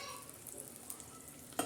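Chopped onions, green chillies and tomatoes fry in hot oil, a soft, quiet sizzle with faint stirring, ending in one brief sharper clink of a utensil.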